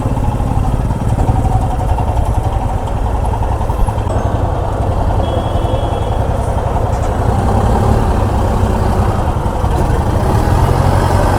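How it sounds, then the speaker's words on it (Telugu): Vehicles idling and creeping in a heavy traffic jam on a mountain road between Ramban and Srinagar, a dense continuous rumble of motorbike and truck engines close by, loud and steady for the whole stretch. "సో ఇట్లా ట్రాఫిక్ జామ్ ఎక్కువ ఉంది"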